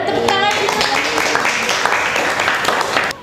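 Audience applause and clapping at a live talk show in Batam, a steady patter of many hands lasting about three seconds before cutting off, with voices mixed in.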